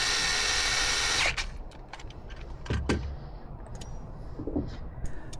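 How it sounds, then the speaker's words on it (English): An electric drill drives a spark plug into a Sea-Doo engine, whirring steadily for just over a second before stopping, followed by faint clicks and small handling noises. "I'll then use the electric drill bit just to speed up the process."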